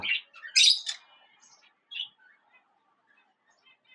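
Bright, high chirps and squawks from pet budgerigars in a short burst, then sparse faint twitters trailing off into near silence.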